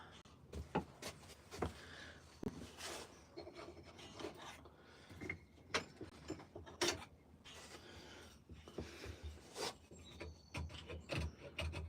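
A coffee scoop carves a bowl out of old hardwood in short, uneven rasping and scraping strokes. The strokes are close but quiet, separated by brief pauses.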